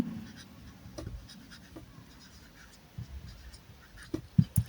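Pen writing out a math solution on paper, faint scratchy strokes close by with a few louder taps near the end.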